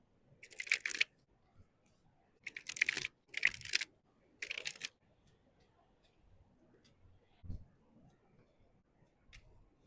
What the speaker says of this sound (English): Let's shuffle your deck and see what their first impression of you is